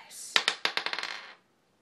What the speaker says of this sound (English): I'm gonna roll the dice.